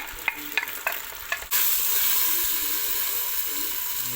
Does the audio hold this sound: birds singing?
no